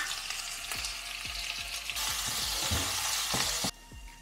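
Onions fry in oil with mustard seeds, cumin and fenugreek, a close steady sizzle with repeated light taps of a stirring spoon, the hiss swelling briefly before dropping quieter.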